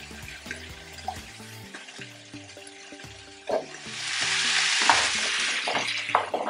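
Potatoes and duck sausage are stirred in a pan, with scraping and clattering strokes over a steady close sizzle that grows louder and denser partway through. Nobody speaks.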